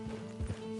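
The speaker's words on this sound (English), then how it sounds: "Get on the horse when you're ready." Horse hooves clip-clopping in the video game Red Dead Online, a few soft, muffled thuds under a steady tonal hum, brief and close.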